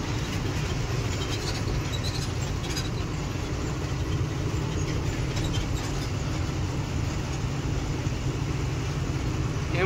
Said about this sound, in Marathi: एमटी असल्यामुळे चांगला ताणतोय गाडी.